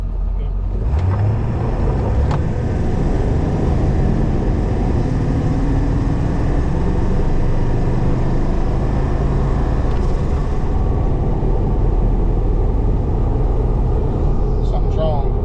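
A tuned 7.3 PowerStroke diesel truck with a 25 horsepower tune pulls hard from 0 to 60, its loud, steady engine rumble and road roar holding throughout without a break.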